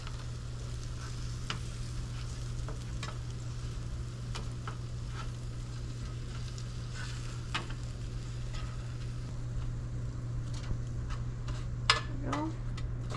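Frog legs frying in a pan, a steady low sizzle and crackle with a constant hum beneath, faint and even, with a few sharp ticks and a clink near the end, no talk.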